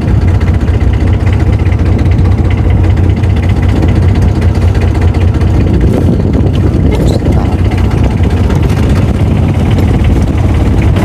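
Fishing boat heading back toward shore at sea, its engine running loud and steady at close range for the whole stretch, a continuous low drone with no talk.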